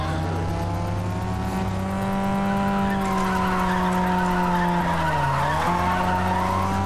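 A race car in Need for Speed ProStreet sends out a continuous, loud engine drone while its tires skid and squeal. The pitch dips and recovers late in the slide, with no talking.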